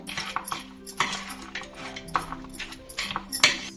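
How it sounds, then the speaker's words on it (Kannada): Peanut chaat mixed with tomato, coriander and chaat masala, giving a run of light clinks and taps of a spoon against a bowl at close range, uneven in rhythm, with no talking. "ಇದನ್ನ ಚೆನ್ನಾಗಿ ಮಿಕ್ಸ್ ಮಾಡ್ಕೊಳ್ಳೋಣ"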